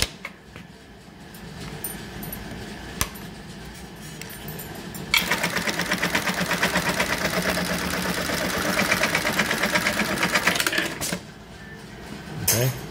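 An industrial sewing machine stitches several belt tabs, running as a loud, fast, steady mechanical chatter for several seconds between quieter stretches of motor hum, with brief clicks at the start and end.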